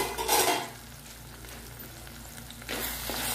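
Sliced onions that have been softening under a lid, sizzling in a pan once it is opened, a gentle crackle with louder bursts of frying noise at the start and end, close and without voices.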